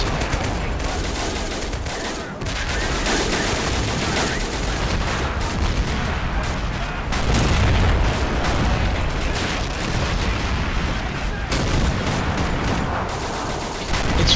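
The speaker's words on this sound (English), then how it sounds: "It's really nice to see these guys firing though. It's actually pretty loud for me." Artillery guns boom in Men of War: Assault Squad 2, loud and dense, with heavy blasts and crackling volleys of small-arms fire overlapping throughout the stretch.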